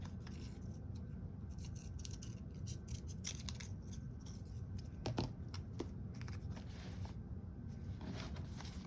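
Scissors cutting paper for a collage, soft repeated snips and crisp paper rustle close by over a low steady room rumble, no talking.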